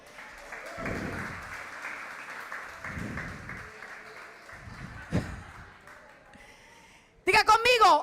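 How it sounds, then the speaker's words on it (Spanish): A church congregation applauds with a sustained spatter of clapping while a preacher keeps talking over it, ending with a short burst of louder voices. "Denle un aplauso"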